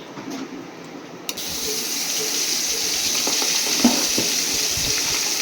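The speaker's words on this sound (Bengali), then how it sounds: "কড়াইতে সামান্য একটু তেল দিয়ে তেজপাতা লবঙ্গ দারচিনি আর এই যে পেঁয়াজ রসুনটা বাটাই ছিল, এবার এটাও দিয়ে দেবো।" Onion and garlic paste fries in oil in a wok with bay leaf, cloves and cinnamon, giving a steady close sizzle with occasional stirring scrapes and a brief clack near the start.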